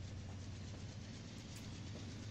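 Siemens Charger passenger locomotive running in Trainz Simulator 2, a steady low engine drone with faint rail rumble, continuous and even with no talking.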